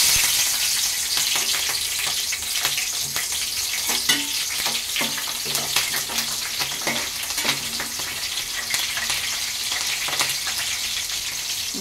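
Green chillies frying in hot oil, a continuous close crackling sizzle with scattered sharp pops and occasional stirring clatter, steady throughout with no talk.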